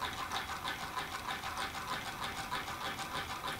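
A large Stirling hot-air engine runs smoothly, giving off a faint, regular rhythmic chuffing and whirring pulse that repeats steadily throughout, with no voices.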